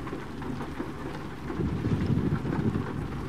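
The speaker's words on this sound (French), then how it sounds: "Eh ben il fait de l'orage mon petit hein." Heavy rain with a thunderstorm rumble in Euro Truck Simulator 2, a dense steady downpour that swells louder about halfway through, with low rolling thunder beneath and no voices.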